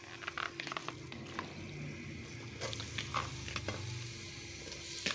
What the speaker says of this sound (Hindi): अब इसमें हम कीमा ऐड करेंगे।